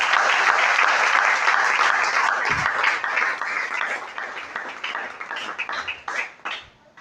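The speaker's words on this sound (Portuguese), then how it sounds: "Aplausos, Senhor." A church congregation applauds during a Portuguese-language deliverance service, dense sustained clapping that starts full and loud, then gradually thins into scattered, uneven claps toward the end.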